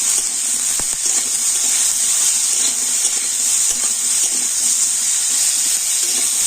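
Pointed gourd (potol) seasoned with salt and turmeric fries in a pan, giving a steady, even sizzle and hiss throughout, with a few faint clicks of stirring and no talk.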